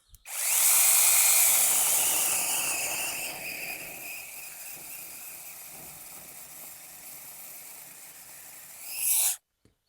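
A LEADER cordless mini saw cuts through fresh wood, a loud continuous high-pitched whine and rasp that slowly eases as the blade works through, then a brief rev before cutting off.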